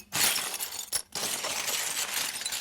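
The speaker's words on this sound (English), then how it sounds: "Craig and I went out and got some glass bits and wound up breaking those." Glass bits are smashed to create a Lord of the Rings sound effect: a sharp shattering burst, a brief pause, then a second break that trails into a sustained crunching tinkle of shards.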